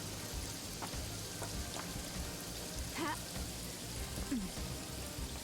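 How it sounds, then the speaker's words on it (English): Rain falls in the video game Paradise Killer, a steady, soft hiss of drops pattering on surfaces, with a few brief faint chirps over the constant wash. "now it's raining on me"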